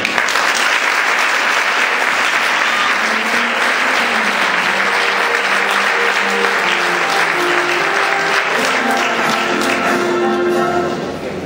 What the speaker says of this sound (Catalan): Nosaltres i tota la comissió només podem donar-te les gràcies amb este fort aplaudiment.